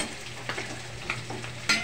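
Food frying in a pan with a continuous crackling sizzle, close and fairly loud, broken by a few sharper pops and stirring scrapes over a short stretch.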